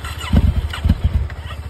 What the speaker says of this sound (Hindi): so Honda cold start